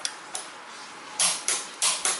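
A torque wrench set to 60 newton meters tightens a bolt during a car oil change, giving several sharp ratcheting clicks, two faint ones followed by four louder ones in a quick irregular rhythm, close up.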